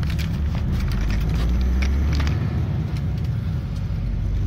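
Steady low engine rumble and road noise from inside a truck hauling pallets on its way toward the centre of Berlin, loud and continuous with no talking.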